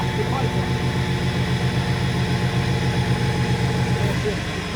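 A tow truck bed rises slowly with a motorcycle loaded on it, a steady, loud low engine and hydraulic drone running unbroken from start to finish.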